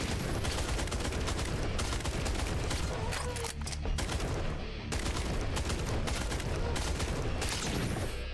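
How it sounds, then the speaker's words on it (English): Sustained gunfire in the video game Holy Shoot, rounds punched through a wall in a dense, continuous rattle of rapid shots with brief lulls, loud and close throughout. "Just shooting through there."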